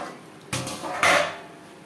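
A lid set down on a pan of katla fish tel jhal curry cooking on a low gas flame, two distinct metallic clanks about half a second apart, close and clear in an otherwise quiet kitchen.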